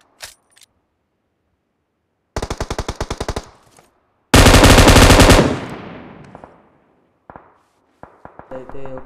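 Two rapid bursts of M249 machine gun fire in PUBG, the second longer and louder with a ringing tail, followed by a few scattered, softer shots.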